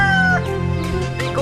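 A chicken clucks and cackles close by, several short calls over a steady low background hum.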